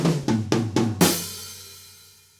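A drum triplet fill at full tempo: four tight, evenly spaced hits snap by, then a heavier accented strike with a washy cymbal tail fades out, loud and unaccompanied.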